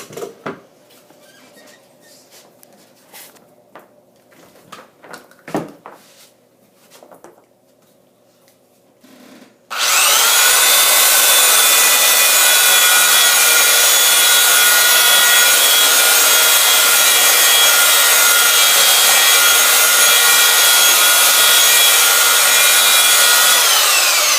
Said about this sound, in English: To show you guys how easily that sands.